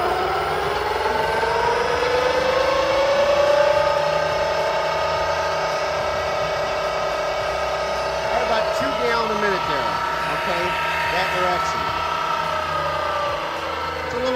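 A Velvet Drive 5000 marine transmission spinning on a dyno, its whine climbing in pitch as the speed rises, steady and close, with a person talking over it.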